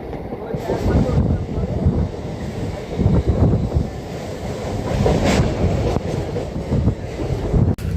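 A passenger train rolls from Santragachi toward Bagnan station in Howrah district, with steady loud rumbling and rattling of the carriages mixed with wind buffeting the microphone throughout.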